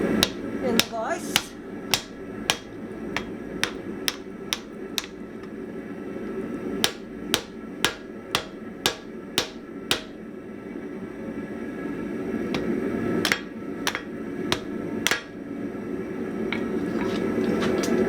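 Hot steel rings under a hammer while a bearded axe is forged, with sharp, evenly spaced strikes in bursts, pauses between runs and a low steady hum underneath.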